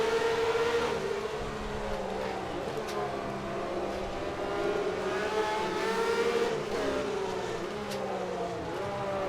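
A Matra V12 race car in rFactor 2 at Monaco, a 1966 setting, screams steadily at high revs throughout, its pitch rising and falling through gear changes and corners, loud and continuous with no talk.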